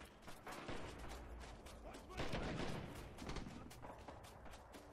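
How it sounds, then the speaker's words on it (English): Distant gunfire crackles through a multiplayer Red Orchestra 2 World War II battle, with scattered bursts and volleys layered over a dense, steady rumble of combat that swells briefly midway. "Someone's shooting, but I cannot get a shot on him."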